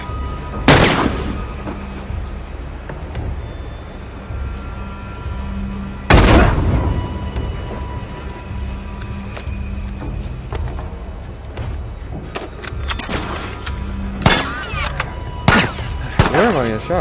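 Gunshots in The Last of Us, with two sharp loud blasts early and scattered smaller shots and impacts later, over quiet background and a player talking.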